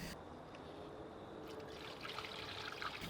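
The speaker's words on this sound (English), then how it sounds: "So the next step is to do a flush with distilled water." Distilled water trickles steadily into a Ford Focus cooling system during a coolant flush, a continuous close pouring stream with no talk.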